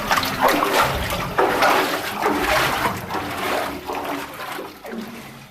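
Water pours and trickles down drainage holes in a tunnel, a steady splashing rush with bursts of louder splatter, close by and continuous with no one speaking.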